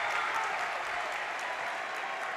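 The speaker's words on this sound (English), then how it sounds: "Crowd coming alive here." Spectators at a girls' high school basketball state final (Dracut vs. Foxboro) roar and clap in a steady, dense wash of applause and cheering that fills the arena without letup.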